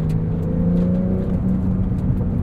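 A 2021 Porsche 911 Turbo S cruises along, its engine humming in a steady low drone with road noise and faint ticking, heard from inside the cabin without speech.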